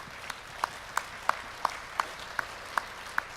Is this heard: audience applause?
yes